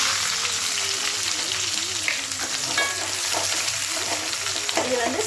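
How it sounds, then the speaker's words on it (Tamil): Onion frying in hot oil in a pan with bay leaf and kalpasi for a green pea kurma, a continuous crackling sizzle close by with occasional stirring scrapes. "இப்போ காஞ்ச உடனே பொரிஞ்சதுக்கப்புறம் நம்ம வெங்காயம் சேர்த்துக்கலாம்."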